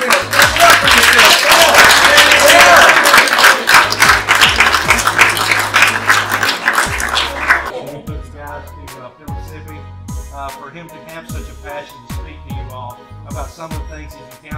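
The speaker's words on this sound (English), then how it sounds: "Clap it up for yourself." Students at an alternative school clap loudly for themselves over a thumping music beat; the dense clapping fills the first half, then fades out, leaving the music playing on with a few scattered sounds.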